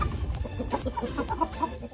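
A Blue-laced Red Wyandotte chicken clucks in a steady run of short, close, moderately loud notes, with a few brighter clucks near the end and no talking.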